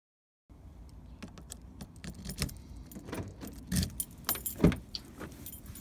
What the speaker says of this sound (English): Step 1 is unlocking the car.